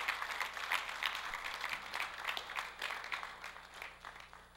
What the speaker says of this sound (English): I just want you guys to give your parents a round of applause for getting you here.